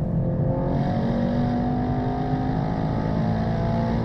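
A Mercedes-AMG E63S super saloon's petrol engine gives a loud, steady, deep rumble with a low droning note that holds evenly throughout, heard close with no voices.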